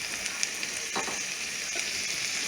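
Chorizo and butter melt in a hot pan with a steady, close sizzle and crackle, a continuous hiss with no voices over it.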